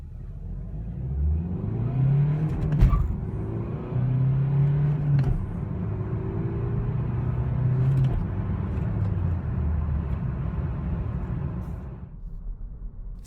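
A 2017 Chevrolet Cruze Diesel with a manual gearbox accelerates hard from a slight roll with traction control off. The engine drone climbs steadily, breaks briefly at gear changes, then keeps pulling in a long continuous run.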